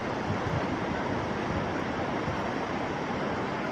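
Floodwater rushes after heavy rain in Uttarakhand, a strong current making a steady, unbroken roar of churning water that stays constant throughout.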